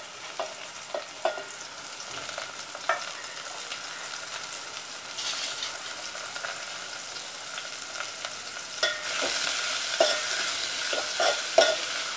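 Onion, tomato and asafoetida cook in a pan with a steady soft sizzle, punctuated by light scraping stirs and occasional spoon taps, fairly close and alone without talk.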